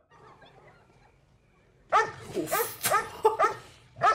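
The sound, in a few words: dog barking in the movie Halloween II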